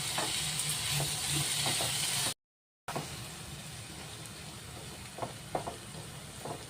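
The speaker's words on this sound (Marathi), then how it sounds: "ते टाकून टमाटे नरम होईपर्यंत परतून घ्यायचे" Chopped tomatoes sautéing in a pan with onion, garlic and chilli, a soft continuous sizzle with a few faint stirring taps, close by, broken by a brief moment of silence partway through.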